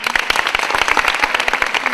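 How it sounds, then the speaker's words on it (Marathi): Loud, dense applause from an audience at a college quiz event, with sharp individual claps rising out of a steady roar throughout. "जोरदार टाळ्या हॉटेल महिंद्रा एक्झिक्युटिव्ह तर्फे."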